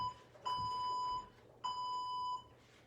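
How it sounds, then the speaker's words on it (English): Workout interval timer sounding two long electronic beeps at the start of a Tabata session, each about three-quarters of a second, clear and steady tones over faint room noise. "So I'm going to start the timer right now,"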